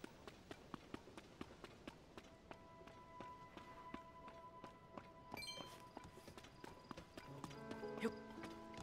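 Horse hooves clip-clopping in a steady running rhythm in The Legend of Zelda: Tears of the Kingdom, close and moderately loud, with game music tones layered underneath.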